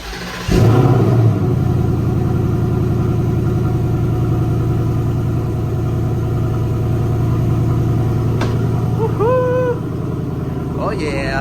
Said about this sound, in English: let me go ahead and give you a semi-Florida cold start